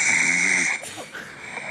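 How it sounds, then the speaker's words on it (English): Recorded snoring played from a sleep app, a faint, rough, rattling snore inhale followed by softer breathy noise over a steady background hiss. "My snore. This is the scary one."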